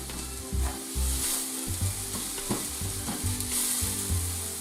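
Onions for a cheese and onion pie fry in a pan, a loud close sizzle with rhythmic stirring thumps, layered over steady background music.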